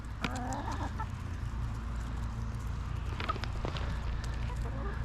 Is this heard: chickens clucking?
yes